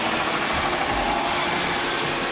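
Car engine running just after an oil change, a steady close idling rumble with broadband noise and no voices over it.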